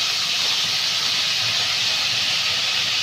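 Potatoes fry in hot oil in a kadai, giving a loud, steady, unbroken hiss of bubbling oil close by, with no talk.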